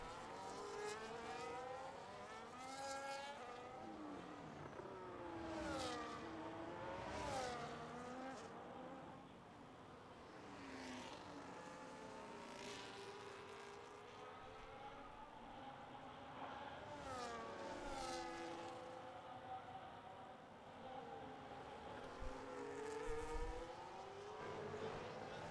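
NEF1 race cars scream past at around 300 km/h during a testing day, several high-pitched engine passes sweeping up and down in pitch one after another, loud and near, with no talking.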